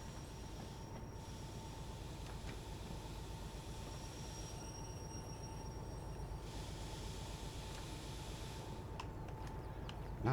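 Steady rolling rumble of a train arriving along the rails in the Derail Valley train game, a continuous mechanical drone with a faint high whine, holding at an even level with no talk.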